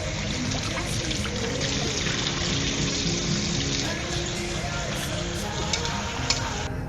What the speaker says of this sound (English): Rinse the potatoes until the water runs clear